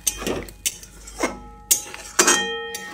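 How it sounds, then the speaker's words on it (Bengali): A metal spatula scrapes and clinks against a pan while soybean curry is stirred, several sharp metallic knocks spaced irregularly with ringing tails, close and clear with no talk. "তো জলটা দিয়ে আবারও সয়াবিনের সঙ্গে ভালো করে নেড়ে চেড়ে মিশিয়ে নিই।"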